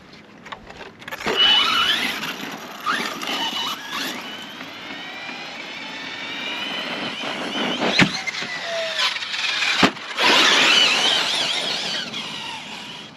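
An Arrma Fireteam RC car on a bash session, its electric motor whining and surging through fast runs and wheelies, with sharp revving bursts, rising and falling pitch sweeps and brief clattering impacts, loud and close throughout.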